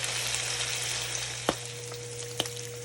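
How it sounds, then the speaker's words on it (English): Bacon and sausage frying in a pan for a country breakfast, a steady broadband sizzle with a low hum beneath and two sharp pops or clinks about a second apart. "I usually start by frying up my bacon and my sausage."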